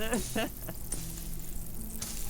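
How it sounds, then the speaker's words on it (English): Food sizzles as it cooks in the video game Abiotic Factor, a brief, soft frying hiss with a voice heard briefly at the start. "Once you hear the sizzle sound, it means you're done cooking."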